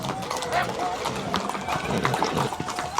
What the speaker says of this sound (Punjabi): ਚੈੱਕ ਕਰੋ ਬਾਈ ਇਹ ਘੋੜੇ ਆ ਨੇ ਆ ਦੇਖੋ ਜੀ ਜਿਹੜੇ ਆਏ ਨੇ